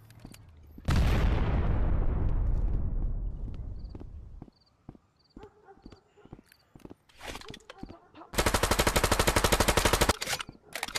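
Gunfire in the Rec Room video game during a hood roleplay session: a loud blast with a long decaying roar, then scattered sharp shots, ending in a sustained rapid automatic burst; faint voices in between.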